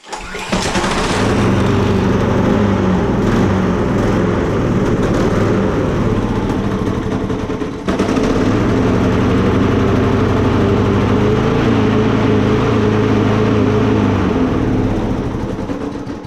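A Husqvarna petrol lawn mower starts with the choke on and runs steadily at a loud, even idle for the full stretch, with one short dip partway through and no talk.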